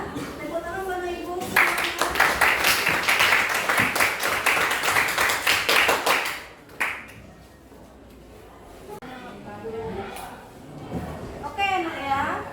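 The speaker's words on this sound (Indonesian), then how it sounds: "Tepuk tangan Bapak Ibu." Classroom audience of parents and students giving a burst of loud, dense clapping for about five seconds, then fading into quieter room noise with scattered voices.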